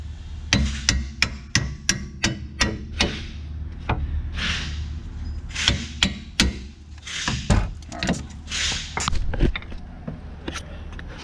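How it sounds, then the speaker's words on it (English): Sharp metallic hammer taps drive a bolt into the strut knuckle of a C8 Corvette, repeated in irregular bursts of close, loud strikes over a steady low background hum. "You only want to tap the bolt in until you get to this point"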